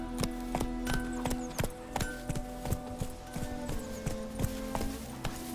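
Geralt's horse Roach trots along in The Witcher 3 game, its hooves clip-clopping in a steady, rhythmic beat at moderate volume over a faint background of held musical tones.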